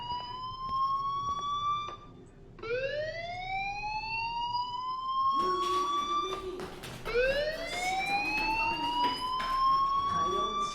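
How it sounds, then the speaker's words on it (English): A fire alarm in a video game wails in rising siren sweeps that repeat several times, loud and continuous, layered with faint clatter and background noise. "do you hear that fire alarm?"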